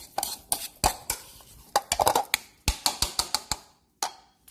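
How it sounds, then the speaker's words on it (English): A spoon scrapes and clinks against a bowl while egg salad is stirred with mayonnaise, giving a run of sharp, close, irregular knocks and taps that stop briefly, then return once more. "let's go ahead and stir this up and see where we ended up on consistency with the mayo"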